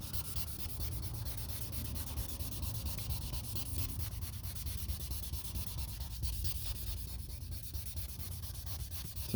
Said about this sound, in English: You want to sand it. Make sure you're smooth and flat with the surface.